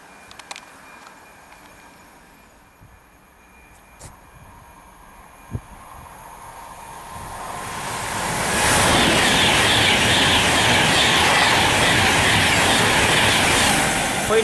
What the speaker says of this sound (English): Next train to pass through is a Virgin Trains Pendolino bound for London Euston from Birmingham New Street.